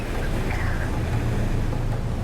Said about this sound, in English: Atlantic Ocean, 25 knots of breeze, inside on a good shift, surfing down the waves.